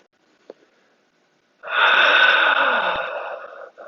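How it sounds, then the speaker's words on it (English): One long, steady breath pushed out through the mouth during a yoga core and balance session, breathy and close, following a faint click and near silence. "exhale through the mouth"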